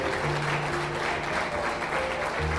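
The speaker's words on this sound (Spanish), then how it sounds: "¿Y cuántos le dan un aplauso a Jesús?" A church congregation applauds during a Sunday service, producing a steady, dense wash of clapping throughout with no pauses, accompanied by a faint sustained low tone from music or an organ.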